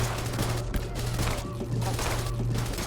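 A turret in the video game They Are Billions fires as zombies are drawn into its line. Rapid, dense bursts of gunfire run continuously and loudly, layered over a low steady game hum.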